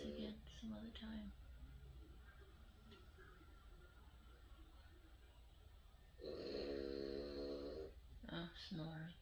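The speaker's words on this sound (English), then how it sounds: "snoring so loud." A loud, drawn-out snore rises for about two seconds late in the clip, set against a quiet room where a person talks nearby before and after it.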